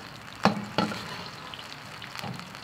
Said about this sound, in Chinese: 我们开始炒， 先下入姜蒜、洋葱，